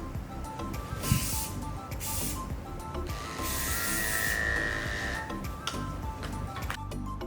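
Electric clippers shave under the ear of a Bouvier des Flandres dog, a close buzzing hum that comes in short passes with brief rustling gaps, fairly quiet and with no voices.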